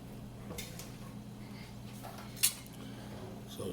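A spoon stirs Savoy dressing mix through ground beef and vegetables in a cooking pot for dirty rice, giving soft scraping over a steady low hum, with a single sharp metallic clink near the end.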